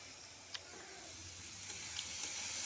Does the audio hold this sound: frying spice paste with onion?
yes